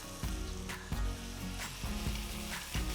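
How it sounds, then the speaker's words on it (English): Chopped onions, slit green chillies, curry leaves and whole spices such as bay leaf sizzle steadily in hot oil, with a spatula scraping and stirring through the pan in several distinct strokes; close and continuous, no voices. "Saute the onions till they're a nice golden brown color."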